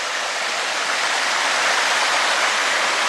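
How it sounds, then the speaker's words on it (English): A small creek runs over chalky, crusty ground full of crevices, giving a steady, close rushing and splashing of water that stays even and fairly loud throughout, with no talking. "Now here is a little creek,"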